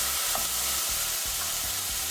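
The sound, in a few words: diced red sweet pepper added to sizzling pan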